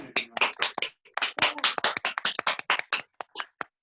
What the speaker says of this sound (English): let us all give a big clap for Padma garu